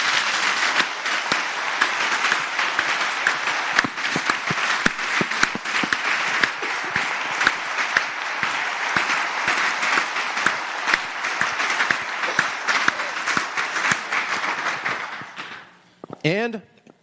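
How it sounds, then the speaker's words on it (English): A crowd in the Virginia Senate chamber applauds, a dense, steady burst of clapping lasting about fifteen seconds before it fades out, with a voice speaking briefly at the very end. "Let's give them applause."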